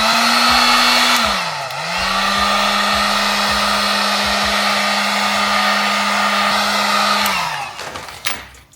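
A heat gun or hair dryer blows steadily to warm adhesive tape on a car reflector, a loud continuous whirring hum that dips briefly in pitch near the start and winds down toward the end.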